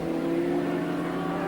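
Touring race cars from the 1986 Australian Touring Car Championship at Symmons Plains, including a Mustang, produce a steady engine drone on the track, continuous and fairly loud.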